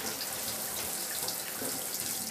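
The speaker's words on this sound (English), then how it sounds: "First ever shower." Shower water runs steadily and evenly while a cat is washed, a broad close hiss of spray with no voices.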